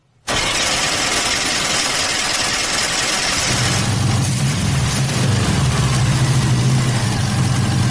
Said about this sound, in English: It needs to warm up to operating temperature so the idle is stable.